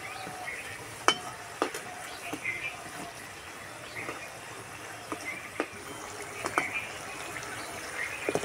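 Stuffed savoury nimki pastries deep-frying in hot oil, a steady soft sizzle and bubbling with scattered sharp crackles and pops throughout, fairly quiet and without voices.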